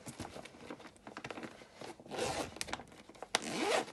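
The zippered packaging of a Sikel Microcotton towel set is unzipped, with a quick ratcheting zip rasp followed by plastic and fabric rustling and scraping up close.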